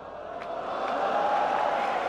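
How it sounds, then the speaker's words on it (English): Crowd cheering and noise rising at the 2023 Hanoi Open Pool Championship quarter-final match, a steady moderately loud roar that swells after the first half-second and holds to the end. "And now he's getting the crowd involved again"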